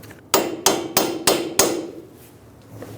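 Five sharp, evenly spaced metallic hammer blows drive a ball joint bolt into the steering knuckle of a 2000-2007 Ford Focus, each strike loud and close with a short ringing decay, followed by quiet.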